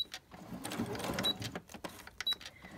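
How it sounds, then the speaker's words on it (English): A sewing machine stitches around a fabric shape in short uneven bursts of whirring and clicking, with brief pauses between runs, close and fairly quiet. "I'm going to just kind of see if I can stitch around this"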